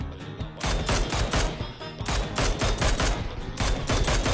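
Dense automatic gunfire in the mobile battle royale Game for Peace (PUBG Mobile), loud sustained bursts of rapid shots layered over each other with short gaps, no talking.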